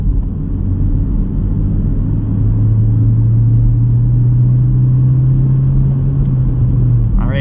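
A 2024 Honda Civic's engine drones loudly and steadily from inside the cabin while the car accelerates in gear, its pitch climbing slowly before a brief change near the end.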